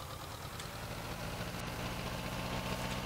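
A T-25 tractor engine in Farming Simulator 19 runs steadily, a continuous low, knocking diesel drone that stays close and even throughout with no talk.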